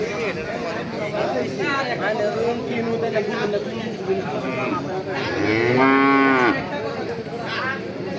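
A cow at a cattle market gives one loud, close moo about two-thirds of the way through. Steady crowd chatter and people talking fill the rest.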